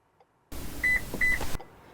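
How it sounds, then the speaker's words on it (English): A Toyota RAV4 beeps twice during smart key programming, two short, clear electronic beeps about half a second apart over a soft background hum inside the vehicle. "Vehicle beeped twice"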